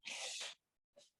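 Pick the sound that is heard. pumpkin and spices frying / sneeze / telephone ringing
sneeze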